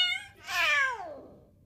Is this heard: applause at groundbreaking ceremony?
no